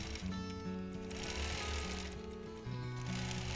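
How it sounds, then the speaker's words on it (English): A quilting machine stitches a small wholecloth quilt along a ruler at constant speed, producing a fast, even mechanical chatter that stays close and loud and keeps going without pause. No one speaks. "I just want to see how this works to stitch and do those bottom edges and use a ruler."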